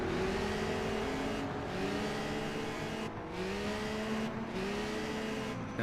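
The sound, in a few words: race car engine revving at Dundrod circuit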